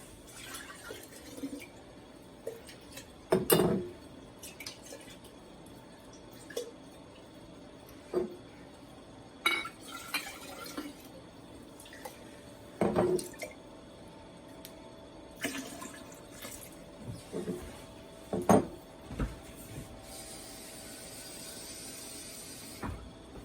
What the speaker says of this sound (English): I'm gonna get some more water and rinse these jars